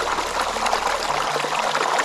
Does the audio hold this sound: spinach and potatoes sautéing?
no